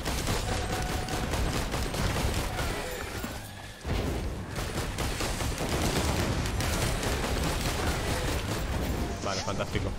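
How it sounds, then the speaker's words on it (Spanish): Dense, continuous volleys of rocket launcher fire in the video game Risk of Rain 2, a loud barrage of rapid blasts and explosions that keeps going almost without pause, briefly dipping once partway through. "eso es un lanzamisiles o lanzallamas, ¿eh? Los cohetes molan mucho"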